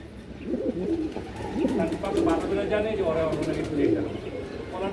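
Old bloodline pigeons at a breeder's farm coo in low, repeated throbbing calls close by, with other birds around.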